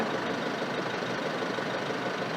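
Isuzu MU-X 2022 engine idling with the air conditioning running, a steady continuous hum without gaps, alone and with no talk.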